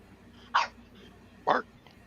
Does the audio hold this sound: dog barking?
yes